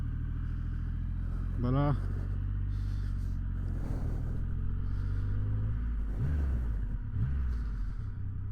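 A 2025 Triumph Rocket 3 GT motorcycle rumbles low and steady while riding. Short rising throttle blips come near the end, and someone talks over the engine.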